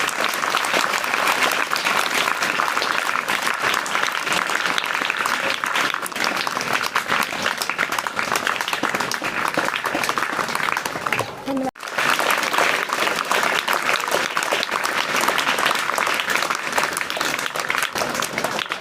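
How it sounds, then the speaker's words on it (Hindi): An audience claps for a prize-winning student at a police road-safety event in India. Dense, steady applause fills the whole stretch, with one brief dip near the middle before it resumes just as strongly. "शाबाश, ताली बजाइए भाई।"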